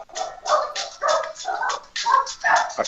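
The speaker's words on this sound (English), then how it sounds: "is your dog singing along?" A dog barks and howls along to music, its voice rising and falling in repeated bursts that fill most of the moment, up close and fairly loud.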